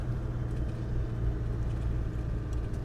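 1999 Land Rover Defender Td5 diesel climbing a hill in fourth gear, a constant low engine drone and road rumble heard from inside the cabin, with no talking.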